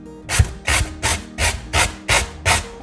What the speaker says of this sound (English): so you can just grate your carrots this way